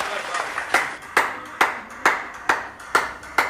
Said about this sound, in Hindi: हमारी पुलिस की टीम को तो ताली बजाइए सबके लिए